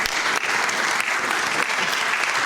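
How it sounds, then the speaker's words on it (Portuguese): Applause from a concert audience in Portugal, a loud, full, continuous clatter of many hands lasting a couple of seconds. "para quem peço desde já uma salva de palmas"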